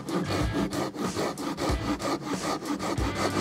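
A hand saw cuts through wood in a woodworking shop, with steady back-and-forth rasping strokes, loud and close, and no talking.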